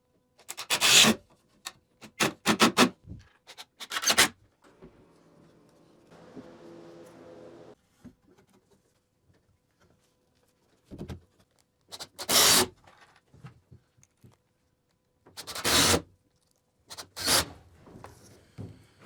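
Screws are driven through wooden nailers into a small wooden greenhouse frame, giving several short bursts of power-driver whir separated by quiet gaps, close and fairly loud, with a softer rubbing stretch in the middle.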